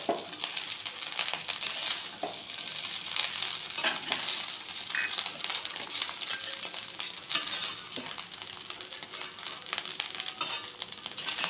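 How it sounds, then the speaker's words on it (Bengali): Fried dry fruits go into a pan of fried rice and get stirred through. Spatula scrapes and rustles keep up a busy rhythm over a steady close sizzle. "ভেজে রাখা ড্রাই ফ্রুটসগুলো দিয়ে দিচ্ছি।"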